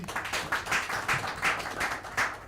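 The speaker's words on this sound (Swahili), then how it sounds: "Tupigie makofi daktari" An audience applauding a doctor after a talk, with light, moderately distant clapping swelling in rhythmic pulses for a couple of seconds.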